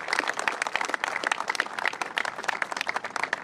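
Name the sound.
applause for building trades workers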